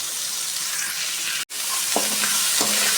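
Cut potatoes, beans and carrots are stirred in a hot pan for a white vegetable kurma, with a steady sizzle and a few scraping strokes of the spoon near the end.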